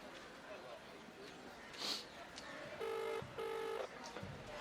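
A telephone placing a call sounds two steady electronic beeps in a row after a brief click, fairly clear over a quiet room.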